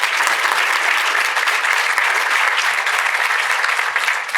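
Sustained audience applause for a panelist at a Chicago community policing forum, a dense steady wash of clapping from a crowd, loud and continuous throughout.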